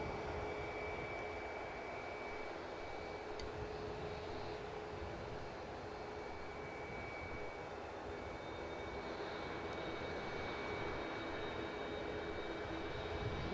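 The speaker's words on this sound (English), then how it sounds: "British Airways in with their A321." A British Airways Airbus A321 arriving at Edinburgh airport, heard as a steady, moderately distant broadband engine roar that holds at an even level throughout, with a faint high whine running over it.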